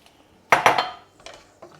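A lid goes onto a pan of spinach and bean shakshuka with a couple of quick metallic clanks, followed by softer clinks a moment later, close and fairly quiet.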